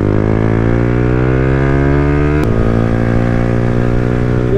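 Yamaha YZF-R125 single-cylinder engine engine-braking on a country road, a loud, steady drone with a sharp blip midway as the revs drop and the exhaust note shifts lower, close and continuous with no talk.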